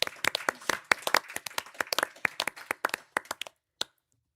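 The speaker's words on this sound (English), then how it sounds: "And I think we can give a round of applause as well." Round of applause at the IFLA General Assembly: a small audience claps in quick, crisp, distinct strikes that thin out toward the end, with a last lone clap after a pause.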